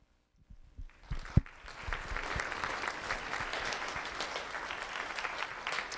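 Audience applause for a student being honored at a sheriff's office recognition ceremony, building quickly after a sharp opening clap into steady, dense clapping that fills the room and continues without letup.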